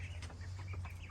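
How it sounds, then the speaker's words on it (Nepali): Chickens on a farm cluck briefly and faintly over a steady low hum, a few short calls close together with no voices. "अरू कुखुरा पनि छ यहाँ फेरि"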